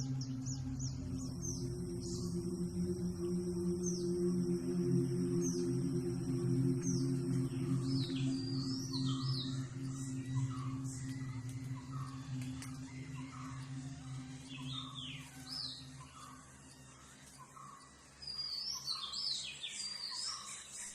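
Many forest birds call and chirp at varying distances in the Western Ghats forest along the Aghanashini river, high whistles and tweets layered over a steady low hum and faint insect buzz.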